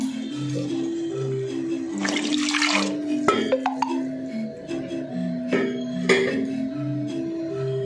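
Water splashes and pours into a pot of cooked rice for Odia-style kanji, a brief gush with light clinks while a melodic tune plays softly behind it.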